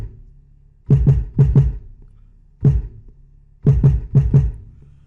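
Kick drum from a Reason 4 REDRUM drum machine routed through a mixer, thumping in short rhythmic clusters of punchy low hits separated by brief pauses.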